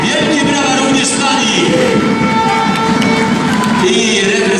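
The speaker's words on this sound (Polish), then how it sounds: "Wielkie brawa również dla" An indoor crowd at a Poland versus Moldova under-21 futsal match applauds youth football academy players: a steady, loud wash of clapping and cheering that holds for several seconds, with a voice faintly audible beneath it.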